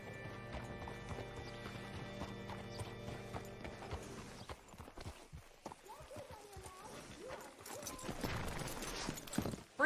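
Horse hooves clip-clop in the Red Dead Redemption 2 video game, an irregular patter of steps under layered game music and ambience, with voices talking nearby.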